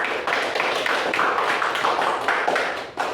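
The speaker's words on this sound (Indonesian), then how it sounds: "tepuk tangan untuk kita semua" A classroom of students clapping together in a lesson, a dense run of hand claps that swells and dips over a few seconds, close and fairly loud.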